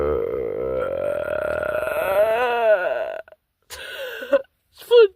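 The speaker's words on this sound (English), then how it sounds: "Your burp is super loud." A cartoon character lets out one long, loud, wavering burp lasting about three seconds during a burping contest, followed by short vocal bursts and brief speech.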